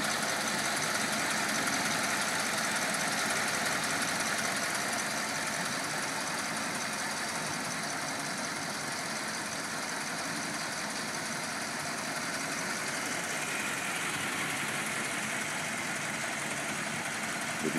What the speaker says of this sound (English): You can hear how wonderfully this car runs, just as a Cadillac flathead should.